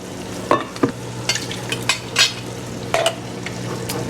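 Diced tomatoes go into a simmering one-pot meal, giving a soft sizzle and bubbling broken by several sharp utensil scrapes and stirring clatters against the pot.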